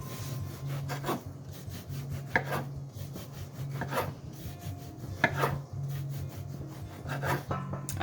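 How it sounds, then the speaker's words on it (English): A knife chops a loaf of bread into small uniform cubes for croutons, giving a handful of crisp, spaced cuts with rasping scrapes against the board over a low steady hum, with no talking. "I chop my bread up"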